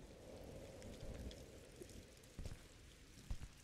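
Rain falls steadily in a Slenderman horror game, a soft, continuous hiss of drops on a surface with a few louder patters, faint and unbroken throughout.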